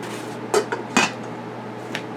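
A saucepan and pots get picked up and set down, giving three or four sharp metallic clanks and clinks spaced over a couple of seconds against a quiet room hum.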